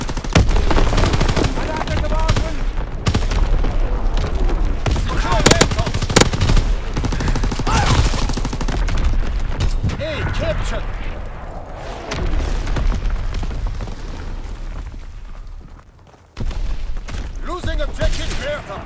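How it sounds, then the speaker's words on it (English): Battle in the World War II shooter Call of Duty: WWII, with constant loud machine-gun fire and rifle shots joined by heavy booming artillery blasts. A game announcer's voice calls out over the noise, and the racket drops briefly near the end before it resumes. "Incoming enemy artillery! Get to cover!"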